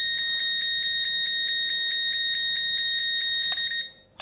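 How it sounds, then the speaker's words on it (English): A Syma Q7 RC speed boat remote control emits rapid, evenly spaced high electronic trim beeps in a steady fast run for several seconds, then stops abruptly; no talking. "So you can hear those beeps go faster when you reach the maximum adjustment"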